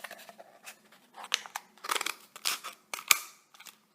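Scissors cut paper into pieces for a paper gun: a close series of crisp, irregular snips and paper rustles over a few seconds, with no talking.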